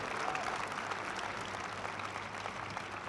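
A convocation audience at the 50th IIMA ceremony in 2015 applauds in a dense, steady wash of clapping that holds evenly for the whole stretch, sounding somewhat distant and fairly soft.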